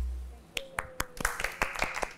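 Scattered, sparse claps from a small studio audience on a Pakistani TV reality show, a handful of distinct sharp hand strikes spaced irregularly and growing slightly quicker, fairly quiet in an otherwise hushed room.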